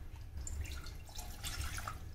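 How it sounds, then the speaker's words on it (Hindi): Water is poured from a glass into a saucepan to start green tea, a steady close trickle and splash lasting a couple of seconds over a low background hum. "1 glass पानी डालेंगे, आप इसे कम ज्यादा कर सकते हैं।"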